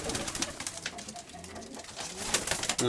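Soft pigeon cooing sits under a steady rustling, clattering background, close by and fairly continuous.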